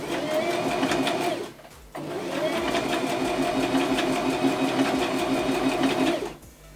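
Sewing machine running a blind hem stitch on terry cloth, two sustained whirring runs with a short pause between them, close and steady, ending as the machine stops.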